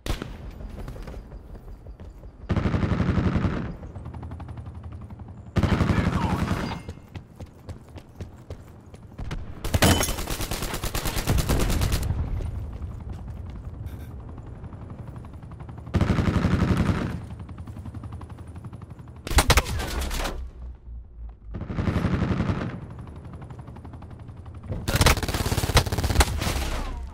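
Call of Duty: Black Ops 4 game audio, with loud, sharp bursts of automatic gunfire that come again and again between quieter stretches of game sound and occasional voices.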